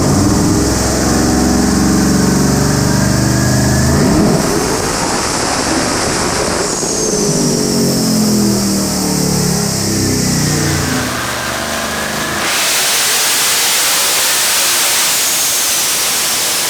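A ProCharged Mustang drag car makes a pass at about 1,200 horsepower, its engine roaring loud and close and rising in pitch through repeated shifts, with a supercharger whine above and a rough, noisy drop near the end.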